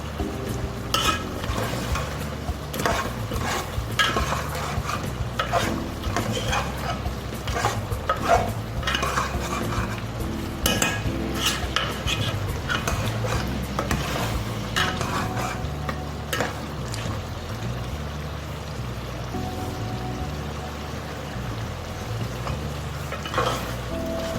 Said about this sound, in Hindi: उस वक्त तक भूनना है जब तक कि ऑयल सेपरेट नहीं हो जाता।